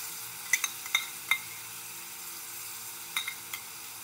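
Burnt, hand-ground garlic paste dropped into a frying pan, giving a few soft clicks and scrapes of a spoon against the pan over a faint, steady sizzle, with no voices.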